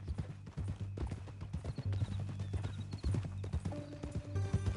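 Horse hooves clip-clop steadily in the Red Dead Redemption 2 video game, with a brief neigh rising through a bed of low rumbling ambience and faint music tones.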